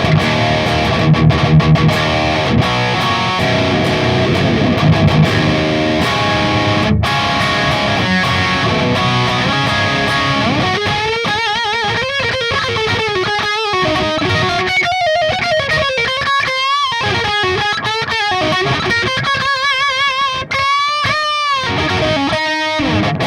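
Aggressive high-gain electric guitar runs through an Audio Assault RVXX amp sim with a Sigma cabinet impulse response. Dense distorted chords and chugs give way to wailing lead lines with bends and vibrato. Loud and steady, with no talking.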